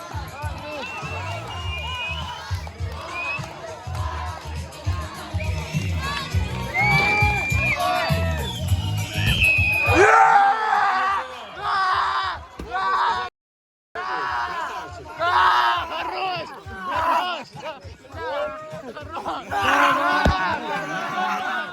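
Spectators shout and cheer on a rider at a competition, with loud, steady crowd noise and whoops close by and people talking throughout, broken by one brief silence.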